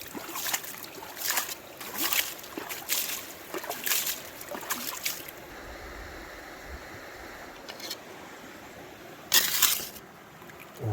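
Irregular bursts of water splashing and sloshing as gravel is washed for gold, close by, with quieter trickling stretches between them.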